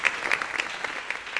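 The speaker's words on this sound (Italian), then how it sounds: "Un applauso." A studio audience applauding a jury member at a televised junior talent final, a dense steady clapping of many hands with a few sharper claps standing out.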